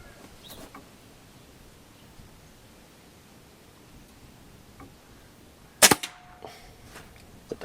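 A single sharp crack from a Stoeger XM1 air rifle firing, loud and close against a quiet outdoor background, followed by a few smaller clicks and rustles.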